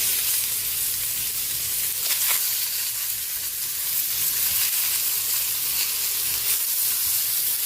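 Chicken pieces for Filipino tinola sizzle steadily in a hot pan, a continuous close frying hiss with faint stirring clatter and no talking.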